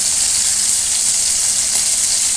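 Fish curry gravy bubbling in a pan, a dense steady sizzling hiss that fills the whole moment without pause, close and fairly loud.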